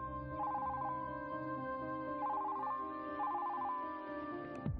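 A telephone rings in a family drama scene, three warbling trilled bursts over a sustained musical score, moderately faint and with no talking.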